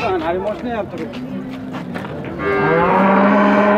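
Loud, close cow moos, one long low call toward the end, with people talking in the background and other cattle around.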